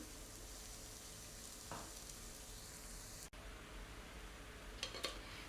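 Ridge gourd peel fries in oil in a pan with a faint, steady sizzling hiss, broken by a couple of light clinks and stirring scrapes.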